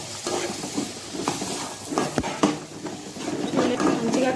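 A pan of fried tomato masala with turmeric and salt has chickpeas stirred into it, giving a steady scraping and clinking of a spoon against the pan over a continuous close sizzle, with no voices.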